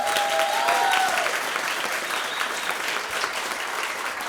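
A dense, steady wave of audience applause at a blockchain panel debate, loud and continuous throughout, with a brief tonal whistle-like sound near the start.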